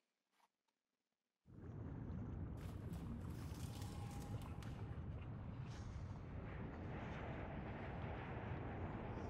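In the video game Chariot, a tractor engine starts up after a near-silent moment and keeps running as a loud, steady, rough rumble that fills the rest of the clip.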